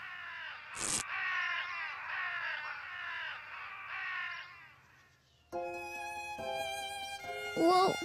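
Strange cartoon birds sing in a children's animation: a raspy crow-like cawing and chattering call, then a brighter warbling, whistling song with a sharp squawk near the end, loud and close without talk.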